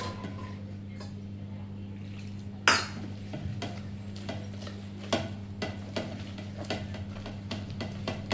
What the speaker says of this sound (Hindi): अब इसका बैटर बना के तैयार कर लेती हूँ